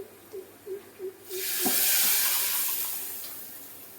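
Fried tamarind-chilli tempering is poured into dal curry, setting off a sudden loud sizzling hiss that slowly fades, after a few soft knocks.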